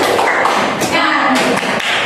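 A group performs the rhythmic tepuk semangat clapping chant, loud close hand claps and thumps in a patterned beat, with voices chanting along.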